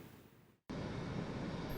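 China Airlines flight CI-182, an evacuation flight from India, lands in Taiwan in the early morning hours. After an abrupt cut, a loud, steady jet roar fills the rest of the clip, and no voices are heard.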